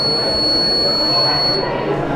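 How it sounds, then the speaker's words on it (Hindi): A battery-powered buzzer alarm on a student-made rain gauge model at a children's science congress gives a thin, steady, high-pitched tone under a voice, cutting out near the end. "इस तरह से अलार्म बजेगा।"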